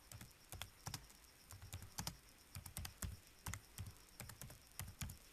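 Fast typing on a computer keyboard while entering a payroll item in Sage Paie i7 accounting software, a quiet run of uneven key clicks close by with no voice over it.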